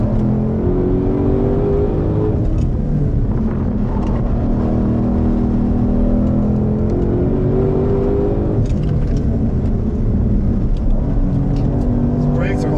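A Shelby GT500 is driven at speed around the Nürburgring Nordschleife, its engine a loud, continuous roar heard from inside the car with shifting pitch as it accelerates and eases off, while someone talks over it.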